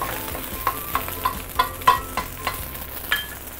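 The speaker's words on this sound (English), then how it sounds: "Now I'm going to push all my noodles to the side." Spatula strokes push Hokkien prawn noodles aside in a hot frying pan, a series of short scraping clinks every half second or so over a soft steady sizzle, close and moderately loud with no talking.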